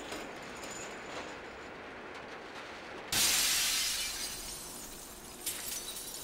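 A sudden burst of shattering glass from the side-scrolling puzzle game Limbo breaks in abruptly after a quiet ambient stretch, then decays into a lingering crackle with a smaller second clink near the end.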